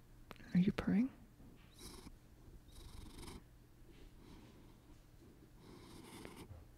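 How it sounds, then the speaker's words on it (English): A pet cat held in someone's arms purrs softly and faintly, a low steady rumble beneath quiet nearby voices. "He's only slightly purring."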